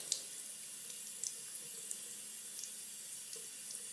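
Tap water streams steadily into a sink while a soapy makeup brush is rinsed, a continuous close hiss with small splashes and drips scattered through, no talking.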